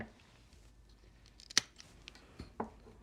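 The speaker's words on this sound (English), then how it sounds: "I'm using my gardening shears, my clippers" Gardening shears, used as clippers, snip a stork-shaped cake topper, giving a few sharp isolated cuts at close range, the loudest near the middle and another toward the end, with quiet between and no talking.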